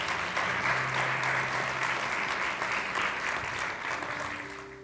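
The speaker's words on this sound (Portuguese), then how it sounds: "Você pode aplaudir ao Senhor por essa palavra?" Church congregation applauding during a family celebration service, steady dense clapping that holds strong and tapers slightly at the end, with a sustained tone beneath.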